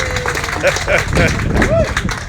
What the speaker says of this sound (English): Thank you for that forced applause.